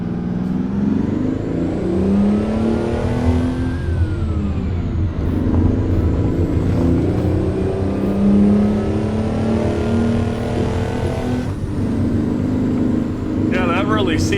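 A Mack R truck with a Detroit two-stroke engine reverses in American Truck Simulator, the loud engine droning and revving steadily with rising and falling pitch as it shifts gears, under occasional talk.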